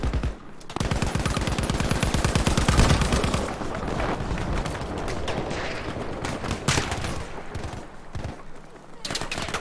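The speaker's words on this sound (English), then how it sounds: "why are we shooting me?" Fast machine-gun fire and scattered gunshots from the video game Battlefield 5 keep up throughout, loud and dense, with a voice talking over the shooting.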